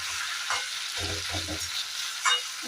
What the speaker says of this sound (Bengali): এবার আলু দিয়ে কিছুক্ষণ কষাবো।